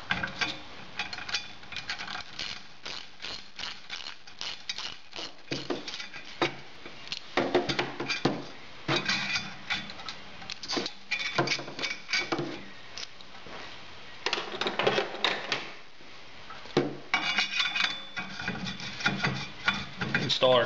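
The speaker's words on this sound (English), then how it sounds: "Install our clutch puller." A clutch puller is fitted and turned on an engine clutch, giving repeated metallic ratcheting clicks and tool clatter in uneven bursts, close up, with no talking.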